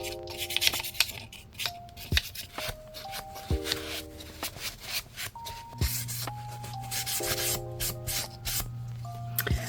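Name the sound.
wax being rubbed onto a miniature wooden bookcase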